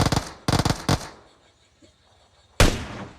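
Gunfire in a shooting video game: three quick, loud bursts of rapid shots in the first second, a quiet pause, then another sharp, loud burst near the end.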